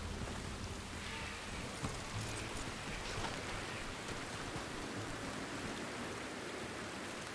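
Steady rain in the Red Dead Redemption 2 video game, a constant soft hiss of falling drops with a few faint patters, even and unbroken with no talking.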